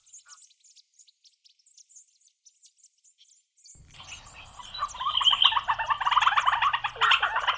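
Faint high chirps at first, then a louder burst of South African bird calls with cooing and trilling notes plays from a sound book, sounding slightly thin like a small speaker.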